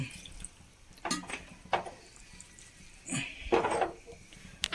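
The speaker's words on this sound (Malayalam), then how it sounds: "കുറച്ചുകൂടി വെള്ളം ഒഴിക്കാം" Water poured into a pot of dried prawn and cucumber curry, heard as several short splashing pours and drips, separated by quiet gaps, close and fairly soft.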